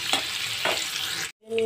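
Paneer cubes sizzling in hot oil in a pan, a steady bright crackle with a couple of stirring scrapes, cut off briefly near the end.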